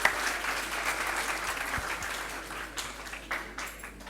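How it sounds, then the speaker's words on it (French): Audience members at a high school quiz competition clap together in a broad, steady round of applause, fairly soft and distant in the room, with a few louder individual claps near the end. "Est-ce qu'on peut applaudir très très fort?"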